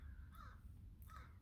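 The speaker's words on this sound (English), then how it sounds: "crows are here." Two caws from crows come in separate bursts some distance off, faint against a low rumbling background, with no voices.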